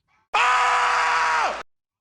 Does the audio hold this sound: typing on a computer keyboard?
no